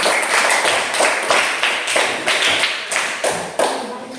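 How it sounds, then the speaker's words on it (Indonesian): A school class claps in a steady rhythmic beat, about two claps per second, close and loud, with no talking. "Tepuk tangan semuanya."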